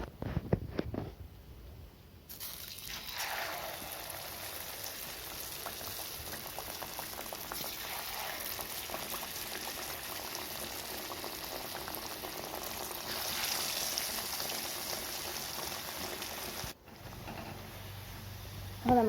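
Battered banana fritters fry in hot sunflower oil with a soft, continuous sizzling and bubbling. The frying stays quiet and steady throughout, with a few faint clatters near the end.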